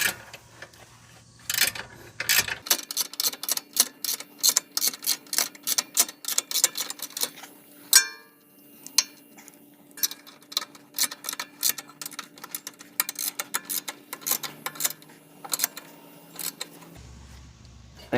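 Rapid clicking of a socket ratchet tightening skid plate screws on an IAG Rock Armor rear shock skid plate, dense bursts of sharp ticks in quick rhythmic strokes, close and steady with a brief pause midway.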